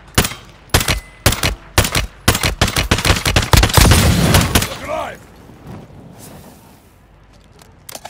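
Rapid gunshots and automatic bursts crack loudly in a DMZ video-game firefight, building into dense fire before fading into quieter rumbling and distant noise.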